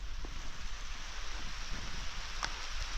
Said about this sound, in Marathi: पाऊस आला मोठा